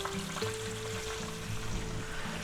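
Thin center-cut pork loin slices frying in a pan, a steady broadband sizzle running close and even for the whole stretch, with low humming tones from the stove underneath and no voices.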